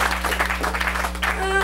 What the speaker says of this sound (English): Come on, everybody, give a round of applause.